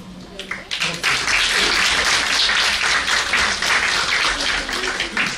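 Audience applause in a hall at a Punjabi literary talk, a dense, steady wash of many hands clapping that swells after a brief start and holds loud throughout, with no talk over it.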